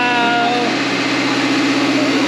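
A Nissan with a V8 engine runs steadily after a jump start at a campground rally, its loud, continuous idle close by with a brief tonal whine near the start.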